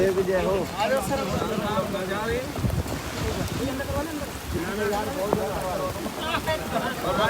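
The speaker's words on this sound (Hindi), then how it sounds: "बारिश बहुत ज़्यादा है" Steady heavy rain hisses in the background while people talk over it throughout.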